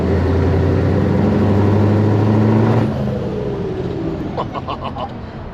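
A Scania 143 500 V8 truck engine rumbles loud and close, its deep throb echoing off a nearby building before the tone drops away as the truck moves off.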